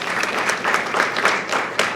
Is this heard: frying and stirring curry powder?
no